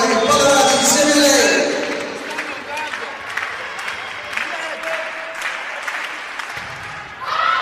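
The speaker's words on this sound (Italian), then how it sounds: "applaude forte la panchina di Cremona" The Cremona bench claps loudly during a women's Serie A2 volleyball match against Busto. The burst of applause is strongest at the start, then fades as an arena commentator talks over it.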